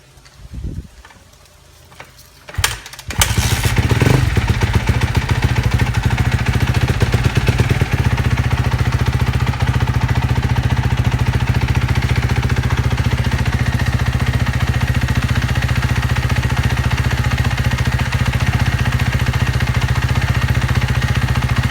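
A 2012 Kawasaki KX250f dirt bike with a freshly installed top end, cylinder and head starts after a couple of kick attempts, then settles into a loud, steady, close idle that runs smoothly to the end.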